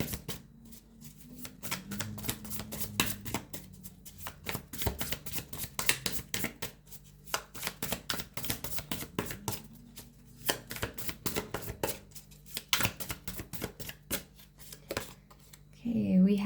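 Tarot cards being shuffled by hand in a quiet room, a steady run of close, crisp riffling and slapping bursts repeating throughout, with faint low voice murmurs underneath.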